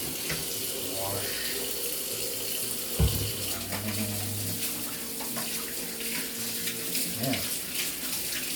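Tap water runs steadily and loudly into a kitchen sink while meat is rinsed under it, a continuous close splashing rush with a few brief knocks.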